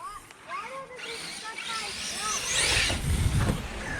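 An Arrma Talion XL RC car speeds up a tall mega ramp, its electric motor whining in rising pitch sweeps that build to a louder rushing roar, with people talking over it.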